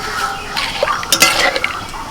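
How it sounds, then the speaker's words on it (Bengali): Sugar goes into boiling water in a pot and is stirred, giving a brief cluster of close metallic clinks and scrapes over a soft bubbling hiss. "জলটা ফুটতে শুরু করেছে এবার এর মধ্যে আমি চিনি দিয়ে দিচ্ছি"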